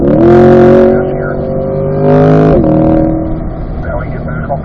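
A 2020 Chevrolet Corvette C8 accelerating on the Spring Mountain race track, its engine note rising loud and close with a gear change midway, then easing off toward the braking zone while a voice talks over it.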